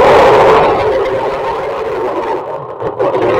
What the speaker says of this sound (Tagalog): ganyan po yung tunog niya mga idol dahil nga po sa nasira yung kanyang gearbox dahil sa na-overload yung kanyang washing machine